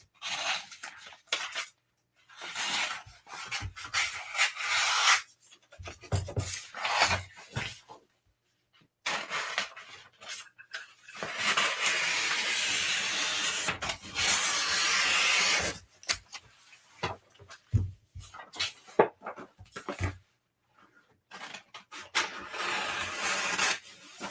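Sublimation paper being trimmed on a large towel, a series of dry rubbing, rasping scrapes in bursts, with one longer steady stretch in the middle and short pauses between strokes.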